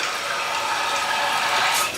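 A newly installed toilet flushes to test its chain and flapper valve, producing a continuous loud rush and gurgle of water that stays steady throughout and swells slightly near the end, with no speech over it.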